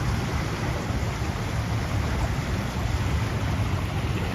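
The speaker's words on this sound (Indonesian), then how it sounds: "Ini airnya kencang sekali" Fast-flowing river water rushes past a bridge in Bekasi, making a loud, steady broadband roar that never pauses, with no voices over it.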